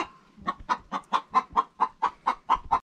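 A hen clucks close by on a farm. About eleven short, sharp clucks come in a quick, even rhythm, then stop suddenly.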